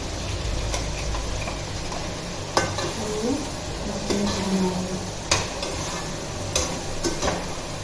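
Masala sizzles steadily in a pan while being stirred and roasted, a continuous close frying hiss broken by occasional sharp scrapes and taps of the spoon against the pan, with no speech.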